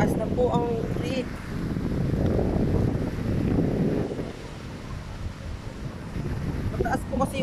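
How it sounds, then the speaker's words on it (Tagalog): Strong typhoon winds during Typhoon Ulysses roar and gust loudly around the microphone, swelling and easing over several seconds, with faint voices mixed in beneath the rushing noise. "masyadong malakas ang hangin"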